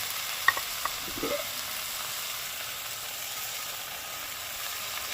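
Beans tipped into a pan of frying dried fish (shutki) curry with onion and garlic: a steady broadband sizzle with a few brief clinks and stirring scrapes early on, moderately close and without speech.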